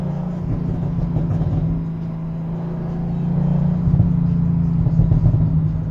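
A 2004 Mercedes SL55 AMG engine holds a steady, close low drone while driving in gear, swelling slightly louder toward the end as the revs climb during a gear change.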